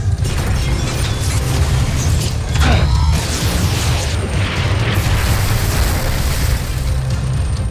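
Rocket explosions boom and rumble in a Voltes V Legacy robot battle, a loud, dense roar of blasts and crashing impacts that stays heavy for the whole stretch.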